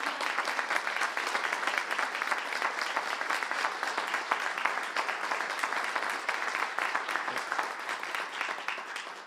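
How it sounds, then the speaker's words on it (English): Sustained applause from a crowd at a university public event, dense steady clapping filling the whole stretch at even strength, with no voices. "Oh, you can clap."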